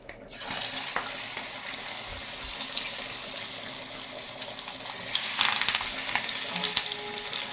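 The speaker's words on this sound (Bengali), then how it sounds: "তেল গরম হলে এটা দিয়ে এইগুলো বড়াগুলো ভাজতে আরম্ভ করব।" Drumstick flower fritters (boras) frying in hot oil, a constant dense sizzle with occasional crackles and a brief utensil knock, close and continuous, growing slightly louder toward the end, no voices.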